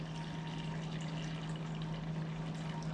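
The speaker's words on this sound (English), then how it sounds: "we want to just fill it just enough that it's halfway" Hot water runs steadily into a baking pan set up as a water bath for crème brûlée, a continuous even filling rush with a low steady hum underneath, no pauses across the stretch.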